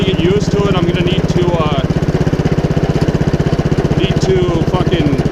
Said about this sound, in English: Always let it idle down, an air-cooled engine, before you shut it down.